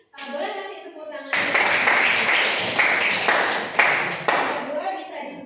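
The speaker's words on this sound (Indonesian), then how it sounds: "Boleh kasih tepuk tangan." An audience at a teacher-training session breaks into applause, a sudden dense burst of many hands clapping that starts after a short stretch of speech and holds steady, with voices mixed in.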